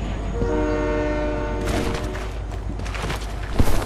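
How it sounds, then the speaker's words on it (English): In the Fortnite video game, a train passes close by with a loud sustained horn blaring over rumbling wheels, then the horn stops and clattering rail noise continues. "Bro, I'm racing the train right now."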